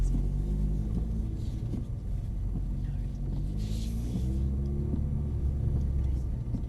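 Mercedes-Benz car engine at full throttle on a driving track, a steady low rumble with rising pitch bands as it accelerates, continuous and fairly loud, with faint voices now and then.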